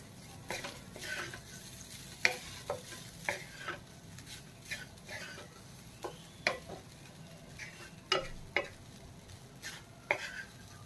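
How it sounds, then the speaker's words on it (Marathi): A spoon stirs and fries leftover rice with corn in a pan, giving a quiet steady sizzle under a dozen or so sharp scraping clacks at an irregular rhythm, close by with no talk. "सगळीकडून आपल्याला चांगला भात हा मिक्स करून घ्यायचा आहे याच्यामध्ये."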